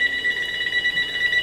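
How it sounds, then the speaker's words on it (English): A telephone rings with a steady, continuous electronic trill that is loud and close and heard alone, with no talk over it. "Now the phone's ringing."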